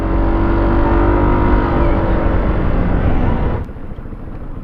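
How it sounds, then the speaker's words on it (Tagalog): An FKM Slick 150 motorcycle engine roars loudly and steadily for several seconds, then drops abruptly to a softer, lower idle near the end. "ang tahimik nga lang niya, oh, ng makina pag naka-idle lang"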